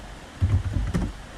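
A short burst of keystrokes on a computer keyboard, a few quiet, close clicks and taps over faint background hiss.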